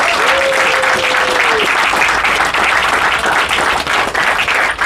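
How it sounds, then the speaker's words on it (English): Loud, sustained applause from a crowd at a sod turning ceremony in Anse Ferre rewards young performers, a thick, even roar of clapping with a brief tone briefly sounding over it early on. "Let's give the young people another round of applause."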